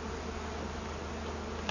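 Honey bees from a tree hive, some sucked up by a bee vacuum, make a dense, steady buzzing drone that fills the air without pause.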